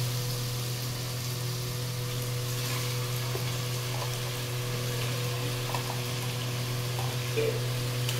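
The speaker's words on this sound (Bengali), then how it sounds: "আদা বাটা, রসুন, পেঁয়াজ টমেটো ভাজা চলছে।" Onions and tomatoes fry with ginger-garlic paste in a pan, giving a steady, even sizzle that runs unbroken at a moderate level with a low hum beneath it.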